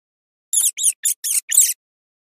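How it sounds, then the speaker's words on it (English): A mouse squeaks five times in quick succession, with thin, very high-pitched chirps that are sharp and clear against complete silence. "Mouse."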